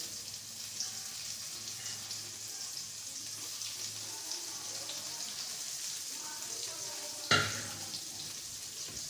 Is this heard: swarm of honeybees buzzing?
no